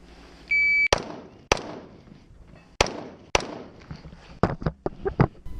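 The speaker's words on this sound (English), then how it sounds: "I simply started with my normal KE-15 shooting team rifle." A KE-15 rifle fires at a 3-gun competition stage after a timer beep: sharp, close shots, first spaced about a second apart, then a faster string of cracks toward the end.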